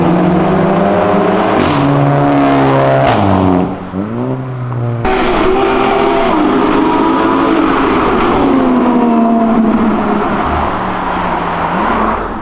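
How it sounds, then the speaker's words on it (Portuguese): Powerful cars accelerate and rev hard along Avenida Europa, loud rising and falling engine tones sweeping up through gears, with a sharp new burst of revving partway through, close and continuous. "Até os donos de A3 estão acelerando, pô."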